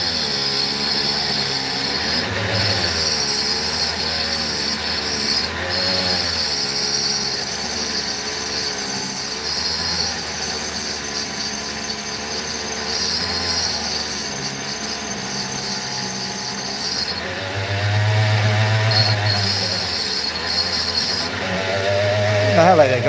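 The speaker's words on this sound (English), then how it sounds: "I'm going to have to grind it." A power grinder works on a piece of opal, a steady buzzing whine that runs continuously and close up, with brief pitch dips as the stone is pressed against it.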